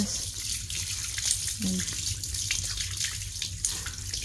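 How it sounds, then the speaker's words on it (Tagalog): Hands being washed under a running tap after planting a rubber plant, water splashing steadily throughout, with a voice faintly in the background. "Nako hugas tayo ng kamay"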